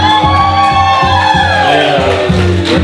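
A concert crowd at a Des Moines lyrical event cheers and shouts loudly and continuously, whoops and yells blending with a pounding bass beat from the sound system.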